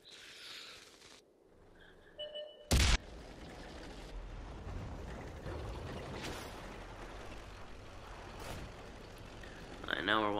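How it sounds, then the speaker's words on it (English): Artillery fire in the tank game World of Tanks on Xbox 360: one sharp, loud boom lands near the start and is followed by a rumbling battlefield backdrop with a fainter blast later on. "Artillery tries to take out that VK-45."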